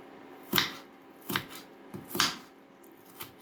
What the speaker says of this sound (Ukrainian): Цибульку нарізуємо полукільцями, а потім ще перерізуємо, щоб було дрібніше